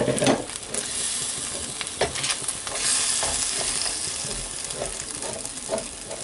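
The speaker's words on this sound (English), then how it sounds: "the rice is starting to stick, it's tender, so the last drop of stock is going in" Mushroom risotto bubbles and sizzles in a pan as the last stock goes in with tender rice starting to stick, with soft stirring scrapes and a splash of liquid, moderately close.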